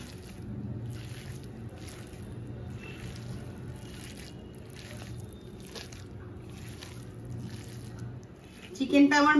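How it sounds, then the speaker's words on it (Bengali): Hands mixing and squishing marinated chicken with oil, chili and grated cheese, soft wet slaps in a steady rhythm at close range, with a brief clatter at the end. "এবার ভালো করে চিকেনটাকে মেখে নেব।"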